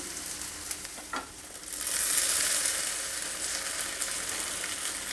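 A pan sizzles steadily, then a loud hissing surge as tomato puree hits the hot oil, settling into an even sizzle.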